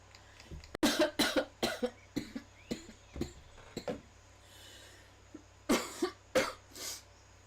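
A person coughs repeatedly up close in a quiet room, sharp bursts in uneven clusters, several fast in a row, then a pause, then another few loud coughs.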